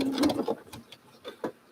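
A sewing machine stitches quilt fabric in short, close bursts of mechanical whirring and clicking, starting and stopping over a brief moment.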